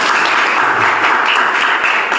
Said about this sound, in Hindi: लेकिन ताली बजा दीजिए।